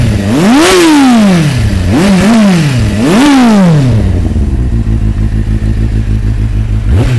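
A 2015 Kawasaki Z800 motorcycle with an Akrapovic exhaust revs hard three times with a rising-and-falling snarl, then settles into a loud, throaty, rumbling idle close by.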